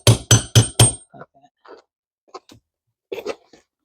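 Four sharp, evenly spaced hammer strikes ring out close by, driving a part back into place on a workbench project, followed by a few faint scattered taps and clinks.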